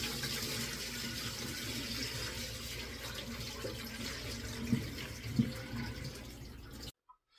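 Rice is washed under running tap water in a home kitchen, with a steady close splashing stream and a couple of faint knocks near the end before it cuts off.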